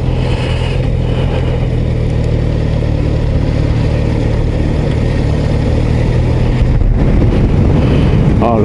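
Suzuki GSX-S 1000 GT motorcycle engine running at low revs in high gear, a steady loud mid-low drone that holds throughout with a brief dip and rise near the end.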